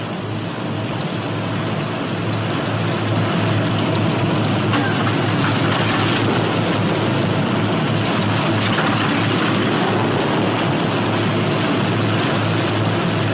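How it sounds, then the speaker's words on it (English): A P-61 Black Widow night fighter's left engine runs steadily at low idle, a continuous loud droning rumble that holds evenly throughout with no voices. "Now we're ready to run through the same procedure for the left engine."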